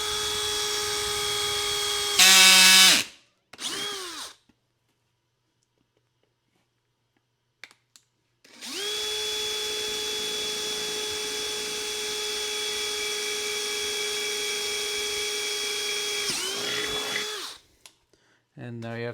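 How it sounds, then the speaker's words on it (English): A power drill with a 5/16 bit bores holes straight through the side of a tube. Two loud, steady whining runs, one short and one long, are separated by silence and brief clicks. "just drill your holes straight through the side"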